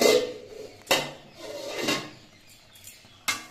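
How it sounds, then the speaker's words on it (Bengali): Metal lid lifted off a wok (kadai) while cooking rice-flour roti dough, with several sharp clanks and clatters of metal against metal, close and spaced apart, between quieter scraping. "পাঁচ মিনিট পর আবার আমি কড়াইয়ের ঢাকনাটা খুলে নিচ্ছি"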